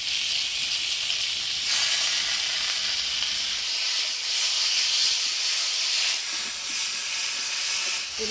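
Ground spice paste hits hot oil with turmeric and salt for a raw papaya and rohu fish curry, giving a steady close hiss and sizzle that swells and eases slightly, with no talking.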